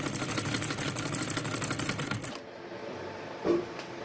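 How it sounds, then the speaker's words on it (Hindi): A sewing machine runs steadily while stitching a baby boy's shirt, a dense rapid whirring chatter for about two seconds that then stops, leaving quiet room sound with one soft bump. "यहाँ सारी सिलाई करूँगी इस तरह।"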